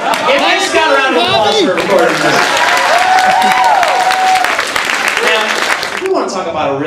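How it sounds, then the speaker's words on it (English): Convention audience in a hall applauding, a dense burst of clapping and cheering mixed with loud voices and chatter, sustained for several seconds before cutting off. "Give Scott a round of applause for recording this"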